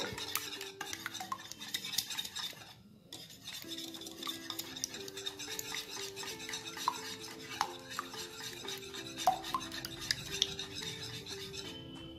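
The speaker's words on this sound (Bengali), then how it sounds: "এটাকে ভালো করে মিশিয়ে নেব।" Egg chop filling being mixed in a bowl, a steady scraping, stirring rhythm of utensil against the bowl, close and fairly quiet, with soft background music and a brief pause partway through.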